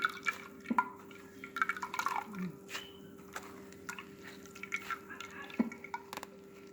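Coconut milk strained and dripping in a kitchen, with scattered small drips and splashes and light clinks of a bowl over a steady low hum, close and fairly quiet.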